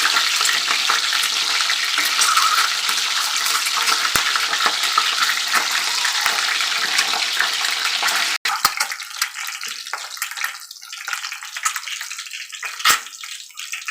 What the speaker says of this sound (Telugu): ఎగ్స్ వేయించాలండి